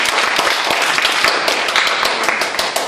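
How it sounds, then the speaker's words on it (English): A Toastmasters club audience claps, loud and close, with distinct individual hand claps forming a brisk, uneven patter that carries on for a few seconds. "Give yourselves a round of applause."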